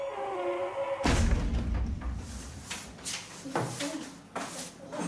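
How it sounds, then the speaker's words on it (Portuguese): A door slams shut in a Silvio Santos Annabelle prank, a sudden heavy thud followed by scattered knocks and shuffling sounds. "Porta fechou, nem ligou ainda."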